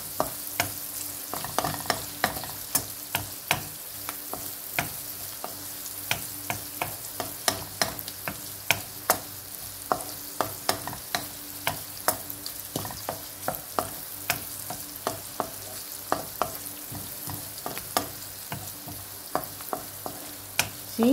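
Lamb kidney and onion frying in the kidney's own fat with no added oil, a continuous close sizzle dotted with frequent sharp pops and crackles throughout.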